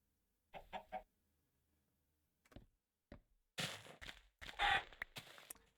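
Chickens in a Minecraft-style video game cluck in a few short bursts, some spaced apart and then a busier cluster of loud, close squawks toward the end, with no talk.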